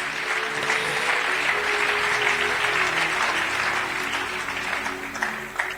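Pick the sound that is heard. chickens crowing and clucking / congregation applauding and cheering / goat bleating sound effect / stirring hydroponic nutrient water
congregation applauding and cheering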